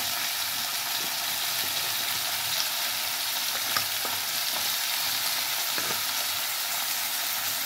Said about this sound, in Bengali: চিংড়ি মাছটা ভাজা ভাজা হয়ে গেছে। এবার আমি সবজিগুলো সব দেবো।